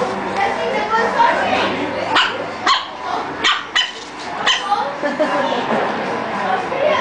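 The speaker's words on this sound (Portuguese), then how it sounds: "A Mili latindo." A dog barks several times in short bursts close by, mixed with people talking over and around the barking.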